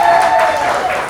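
A theatre audience at a Kansas City Fringe show applauds to vote for a scene, a short, dense burst of clapping and cheering that fills the room and then tapers slightly.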